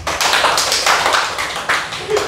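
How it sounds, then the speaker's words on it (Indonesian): Applause from a group at the close of an Indonesian talk show episode, a dense, continuous patter of hand claps lasting a couple of seconds, fairly loud and close. "Tepuk tangan semuanya."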